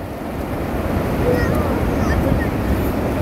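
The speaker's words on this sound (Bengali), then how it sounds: "উঠে উঠে আবার ঢেউ আসতেছে" Sea waves roll in at Patwartek beach near Inani, Cox's Bazar, a loud, continuous surging wash up close, roughened by wind buffeting the microphone.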